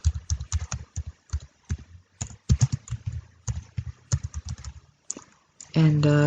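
Keys clatter on a computer keyboard in quick, irregular bursts of close taps with short pauses, ending on a brief tonal chime.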